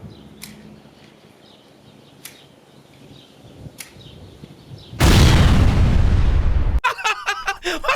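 A loud, sudden blast erupts from gasoline and propane tanks set alight in a Marvel Rivals game, roaring for about two seconds, then breaking into crackling, flickering fire bursts after a few faint earlier pops.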